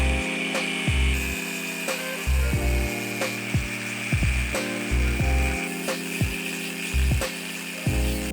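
Power tool chopping a section off a brand-new OEM ball joint on an IS300 drift build, a close, steady grinding whine punctuated by repeated sharp clicks and knocks through the cut.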